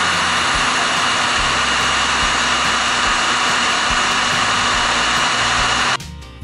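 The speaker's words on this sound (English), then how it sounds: "Okay, we'll start with the heat gun." Heat gun blowing hot air onto solder joints on a lithium battery pack built from Chevy Volt cells: a steady, loud, close whooshing roar that holds for about six seconds, then cuts off abruptly.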